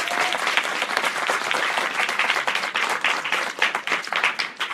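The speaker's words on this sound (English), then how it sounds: "Round of applause for Mr. Manolelli here." Audience applause for a judge at a dance judges and directors forum, a steady dense wash of many hands clapping that holds loud and even throughout, with a few sharper individual claps standing out near the end.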